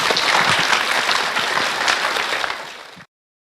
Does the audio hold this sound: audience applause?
yes